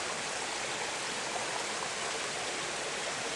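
A steady, broad watery rush of tea pouring continuously from a pot outdoors in woodland, close and even throughout, with no voices.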